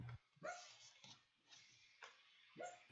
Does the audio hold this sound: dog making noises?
yes